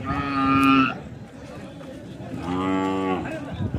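Cattle at a weekly bull market in Raybag bellow twice nearby, each a loud, drawn-out moo about a second long, separated by a short pause, with faint crowd murmur in the background.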